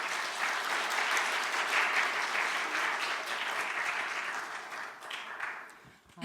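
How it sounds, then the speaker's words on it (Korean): Sustained audience applause at a symposium, a dense wash of many hands clapping together that holds steady for several seconds and then tapers off. "큰 박수로 이현숙 수녀님 앞으로 모시겠습니다"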